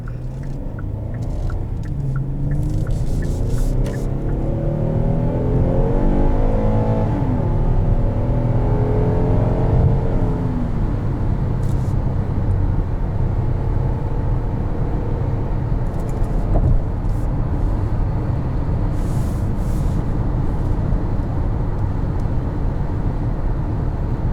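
A naturally aspirated V6 engine in a Kia Telluride SUV revs loudly and steadily, its tone climbing and falling through several sweeps before settling into a sustained drone.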